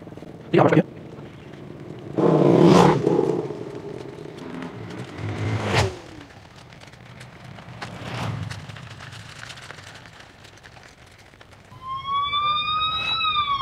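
A few thumps and muffled noises, then a J & P Technologies GPS tracking device's electronic siren-style alarm starts near the end, wailing in rising, repeated tones, fairly loud and close.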